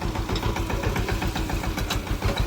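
A tractor engine runs close by in a village with a steady, thumping, knocking beat, loud and continuous with no voices.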